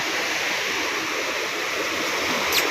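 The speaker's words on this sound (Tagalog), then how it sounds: "Malakas ang alo dito sa uh, pangpang pero doon sa gitna ay wala" Strong waves wash steadily onto a sea shore at high tide, a constant broadband roar of surf with no clear individual breaks, close and loud throughout.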